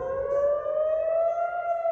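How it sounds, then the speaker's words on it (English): Air raid sirens blare in the early morning, a single sustained wailing tone that slowly rises in pitch, loud and steady with no voices. "The sky, usually quiet in the early morning, exploded with sirens,"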